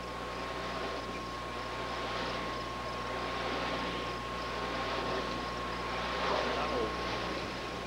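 Wind turbine blades on Tug Hill spin with a constant, steady whir, a broad even hum that swells gently in waves, heard alone at moderate level.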